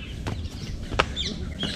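Early-morning birds call in Taj Nature Walk Park, Agra, with several short chirps and clucks scattered over a soft outdoor background, fairly faint and at a distance.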